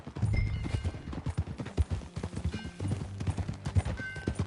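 Horse hooves clip-clopping at a steady walking rhythm in the video game Red Dead Redemption 2, close and clear, with a short neigh mixed in.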